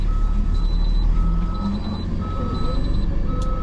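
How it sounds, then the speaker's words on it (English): A 2024 International MV hooklift truck's backup alarm beeps in repeated bursts of quick tones over a loud, rumbling idling engine, close by. "we gotta figure out how to turn off that backup alarm"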